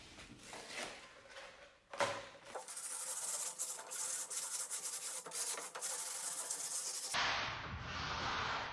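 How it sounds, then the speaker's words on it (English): Light sanding of a wooden frame piece for a magnet mosquito screen: steady, fairly loud rubbing and rasping strokes, a brief sharper scrape near the start, then continuous abrasive friction to the end. "I'm going to give it a light sand and some stain"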